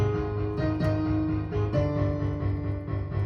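Piano playing the second part of the FNAF melody with both hands, a short phrase of single notes over low chords, moderately quiet and close, with no talking.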